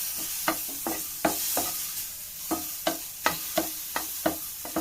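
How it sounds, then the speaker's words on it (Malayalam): Small bananas fry in ghee in a pan under a steady close sizzle, while a spoon stirs and scrapes against the pan in irregular soft knocks. "നല്ലപോലെ നമുക്ക് ഇളക്കി കൊടുക്കാം നല്ല മണക്ക വരുന്നുണ്ട് കേട്ടോ നെയ്യിൽ ഇങ്ങനെ പഴം വറക്കുമ്പോൾ"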